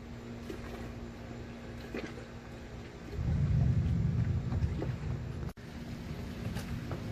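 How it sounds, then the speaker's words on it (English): A South Alabama summer thunderstorm, with steady rain hissing outdoors and a deep, rolling rumble of thunder swelling loud midway before easing back under the continuing rainfall. "Alright, so the rain has picked up."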